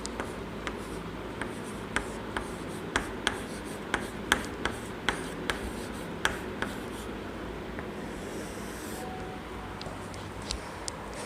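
Someone writes the Hindi names of the weekdays by hand. Soft, steady scratching of the writing tool runs under the background, with a series of light, regular taps as each stroke lands. Near and quiet.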